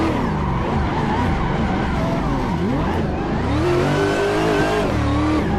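A drift car in Assetto Corsa revs hard and continuously, its engine pitch sweeping up and down through throttle blips with tire squeal mixed in, loud and close throughout.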